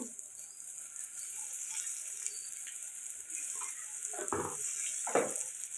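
Tomatoes frying in a pan with salt and turmeric, a faint continuous sizzle with a few soft stirring scrapes near the end.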